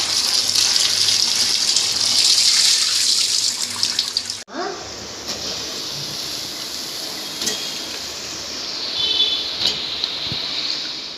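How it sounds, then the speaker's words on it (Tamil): Tap water gushes loudly into a sink as vegetables are rinsed, then the flow drops to a softer, steady trickle with occasional splashes and knocks. "காய்கறி வந்து அலசிக்கலாங்க."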